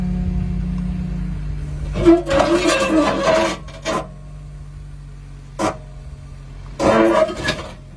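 Jeep Gladiator undercarriage scraping over a rocky trail: a steady low engine drone, broken by several harsh grinding scrapes in bursts, one brief knock midway and a final long rasp.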